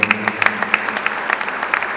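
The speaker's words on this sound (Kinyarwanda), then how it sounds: "Nagira ngo nongere mumpera amashyi umupadiri" A crowd claps for a priest at a family memorial gathering, brisk uneven hand claps close by over a low murmur of voices.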